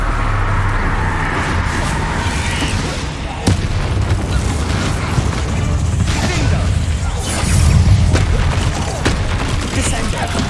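Bombarda spell blasts in the Hogwarts Legacy video game, a chaotic run of booming bursts and sharp cracks layered over dense combat noise and music, loud and continuous with several distinct impacts.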